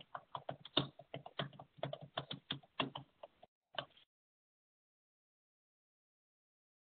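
Quick bursts of keystrokes on a computer keyboard as a client's email address is entered, a close, crisp run of clicks for about four seconds before stopping into silence.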